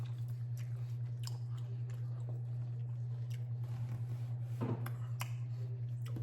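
Someone chewing and biting into Texas-style spare ribs close up, with soft irregular wet squishes and small crunches over a steady low background hum, no talking.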